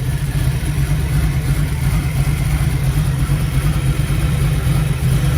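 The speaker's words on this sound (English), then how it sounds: "Really good running engine." A small-block V8 in a 1931 Chevrolet five-window coupe hot rod idles close by, a loud, steady, throaty rumble with a strong low-end throb and no voices over it.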